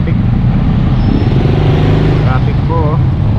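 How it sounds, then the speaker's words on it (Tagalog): Busy town road traffic with cars and motorcycles passing close by, a steady loud engine rumble with a horn-like tone near the end, and voices talking over it. "Traffic po, oh."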